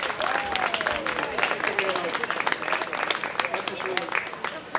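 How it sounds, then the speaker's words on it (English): Applause for a band at an Oktoberfest tavern gathering rises as steady clapping from a crowd, with a voice and a whoop over it. "How about a quick round of applause?"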